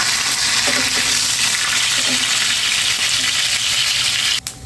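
Pangas fish frying in hot oil in a home kitchen, a loud steady sizzle with a brief clatter near the end.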